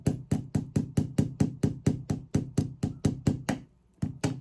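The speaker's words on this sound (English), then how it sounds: "I'm gonna have to hammer it in." Rapid, evenly spaced hammer knocks drive a small object such as a thimble into place, about sixteen sharp close strikes in a steady rhythm with one brief pause before the last few blows.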